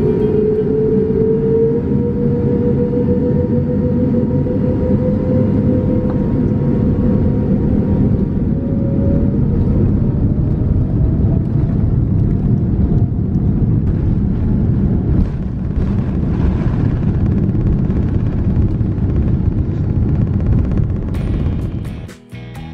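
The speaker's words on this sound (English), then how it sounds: "we pushed back and finally set off for Hong Kong" Ethiopian Airlines Boeing 787-9 jet pushing back and departing, heard from inside the cabin as a steady loud engine roar and whine with a rising tone, continuous throughout before cutting off at the end.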